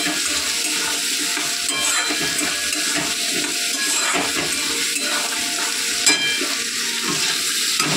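Potatoes fry in a pan with a steady, close sizzle that holds throughout, broken by occasional stirring scrapes and clinks of utensils.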